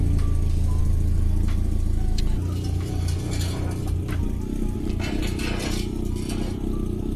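A Toyota MR2 rolls slowly forward onto ramps, its engine idling low and steady with faint scraping and mechanical knocks as the tyres climb, close by with no one talking.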